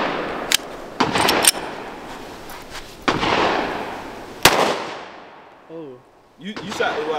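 Pistols are fired at a shooting range, several sharp gunshots cracking at uneven intervals, some overlapping, with brief voices near the end.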